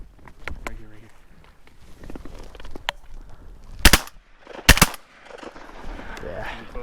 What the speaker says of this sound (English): We both shot it at the same one.